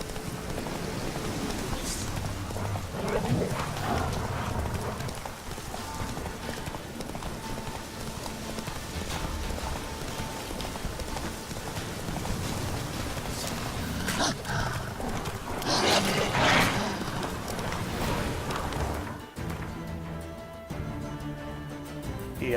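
Horse hooves galloping along a road in a video game make a steady, continuous clip-clop rhythm throughout, fairly close, with game ambience and brief bursts of other noise mixed in.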